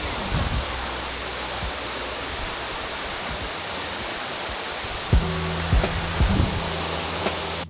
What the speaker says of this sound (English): it almost feels as if the sound of the rushing water is encouraging us to keep going